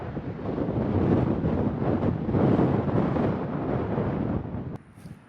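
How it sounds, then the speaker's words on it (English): Gusty wind on an open hiking trail buffets the microphone in loud, rumbling surges for several seconds before easing off abruptly near the end. "Still getting a lot of gusty winds."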